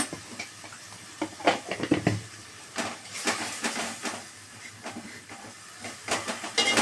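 Ginger paste, blended with coriander and garlic, frying in a pan on high flame, giving a steady hissing sizzle with scattered crackling bursts, moderately close and fairly quiet.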